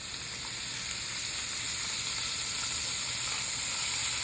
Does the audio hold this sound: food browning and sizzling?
yes